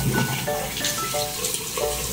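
Utensils being washed under a running tap, with a steady close stream of water and faint clinks of dishes throughout, no talking.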